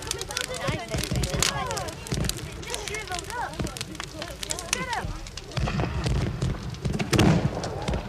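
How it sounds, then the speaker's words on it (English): Bonfire Night fireworks pop and crackle in irregular bursts while several people talk excitedly over them. "Look, the fireworks are starting."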